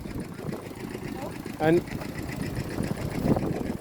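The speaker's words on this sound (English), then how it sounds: "a selection of stationary engines. All different types, all different makes, all different brands, all the way up along" Vintage stationary engines idle at an outdoor vintage show, giving a low, continuous chugging drone under someone talking nearby.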